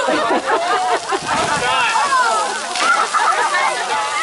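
Water sloshes and splashes at a newly opened children's splash pad, lively and continuous, mixed with a busy crowd of kids and adults chattering and shouting throughout.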